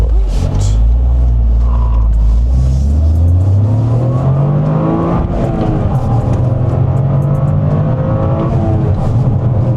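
A Toyota GR Corolla engine revs hard and accelerates in track mode, its loud roar climbing steadily in pitch, with a throaty intake growl running throughout.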